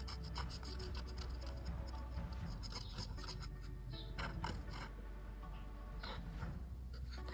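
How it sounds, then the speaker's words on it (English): A felt-tip alcohol ink marker rubs and rasps across laser-cut wood in steady circular strokes, a continuous scratchy friction with slight swells, heard close up and alone. "even though I'm rubbing against the edges of the trinket, it will not be visible"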